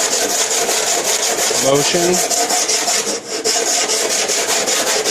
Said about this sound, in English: So what you do when you're sanding is you want a